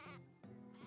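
Sheep in Craft the World bleat in two or three short, wavering calls, close and clear in quick succession.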